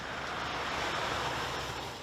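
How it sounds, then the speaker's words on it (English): Aircraft engines roar steadily as planes fight to land through Storm Floris winds, a continuous broadband rush blending engine noise with gusting wind, with no talk. "Planes struggling to land."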